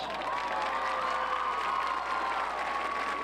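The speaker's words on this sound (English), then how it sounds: "Once more, let's give all these ladies a round of applause." Spectators at a high school football game, Dalton versus Woodland, clap and cheer steadily in a broad, distant wash of applause, with a faint sustained tone running beneath it.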